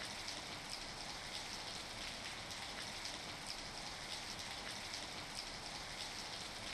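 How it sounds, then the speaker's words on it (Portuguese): Rain falls steadily as a dense, even hiss of drops that stays constant and faint throughout, with no voices. "tá chovendo de novo"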